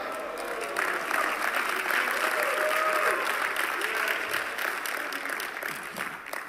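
A church congregation applauds in a sustained, dense burst of clapping that swells after the first second and holds steady before easing slightly, with faint voices mixed in.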